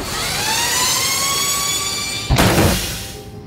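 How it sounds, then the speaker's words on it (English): X-wing S-foils locking into attack position in a Star Wars audio drama: a steady rising mechanical whine that breaks into a sharp, loud burst of noise near the end. "Activating S-foils."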